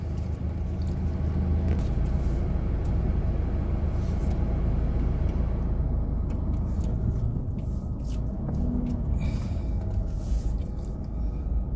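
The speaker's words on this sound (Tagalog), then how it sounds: "Medyo traffic ang araw na ito dahil umulan na naman." Road traffic after rain, a dense steady rumble of cars and larger vehicles passing close by, loud and continuous with hissing wet tire noise and occasional brake sounds.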